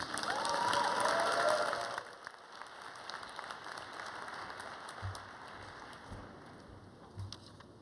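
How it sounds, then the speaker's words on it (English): Audience applause for a speaker at a One Young World 2012 sustainable development plenary, loud dense clapping for about two seconds, then fading to scattered claps and crowd murmur in a large hall. "give a round of applause to Barkha Mossae from the island of Mauritius"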